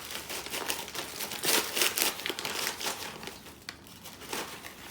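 Plastic freezer bag crinkling and rustling while being handled, with irregular bursts of crackle close by and no speech.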